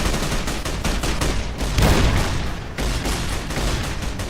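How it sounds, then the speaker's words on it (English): Loud, dense gunfire rattles throughout a Fallout: New Vegas battle at Hoover Dam, rapid overlapping shots from several weapons, one heavier burst near the middle, with no voices. "Who's shooting?"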